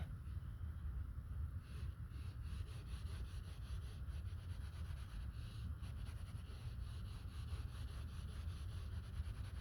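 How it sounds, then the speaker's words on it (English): A brush scrubs black plastic trim on a Saturn Vue, producing a steady, faint, close rubbing hiss with slight rhythmic strokes and no voices. "it should be easy enough for me to scrub it clean with a brush"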